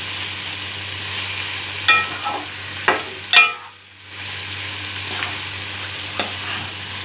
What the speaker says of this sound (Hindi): अब हम इसमें कैप्सिकम ऐड करेंगे, क्योंकि इसकी ये बहुत सॉफ्ट होती है इसलिए इसको हल्की आंच में मिक्स